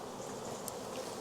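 Honey bees hum at a beehive in a faint, steady drone with small flickers of buzzing as individual bees pass nearby, and no one speaking.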